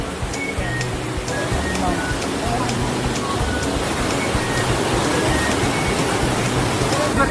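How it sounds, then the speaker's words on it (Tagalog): Spring water at the source of Kawasan Falls flows with a loud, continuous broadband rush, close by and steady throughout. "Ito daw yung source ng tubig ng Kawasan Falls."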